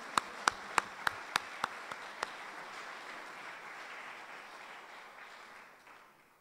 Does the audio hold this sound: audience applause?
yes